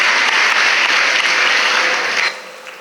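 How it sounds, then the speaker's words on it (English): An audience at a school prize-distribution ceremony gives a burst of brisk, close applause for students walking up to the stage, the clapping dying away abruptly near the end. "Please encourage the students with a round of applause as they come to the stage."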